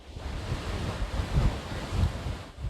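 Rough, wind-whipped sea waves surging off the rocky coast of Calabria, with swells breaking in repeated rolling bursts under steady wind buffeting the microphone.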